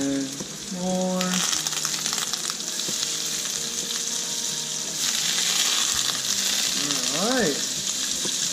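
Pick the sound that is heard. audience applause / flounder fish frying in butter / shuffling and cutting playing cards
flounder fish frying in butter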